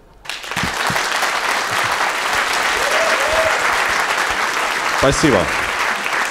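A television comedy show's studio audience claps loudly and continuously right after a brief opening, sustained applause filling the room, with someone briefly speaking over it near the end.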